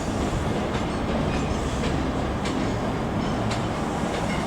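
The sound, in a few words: HST train set arriving at Edinburgh Waverley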